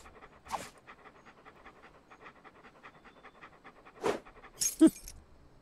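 Rhythmic, steady panting from a dog in the adventure game Monkey Island II, fairly quiet and continuous, broken by a few brief louder bursts of game sound effects.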